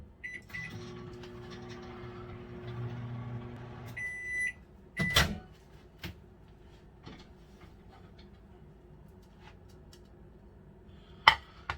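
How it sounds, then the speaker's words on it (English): A microwave oven heating ramen with shrimp hums steadily for a few seconds with beeps, then a door clunks open and shut, followed by quiet clicks and another beep. "put just for another minute to the microwave"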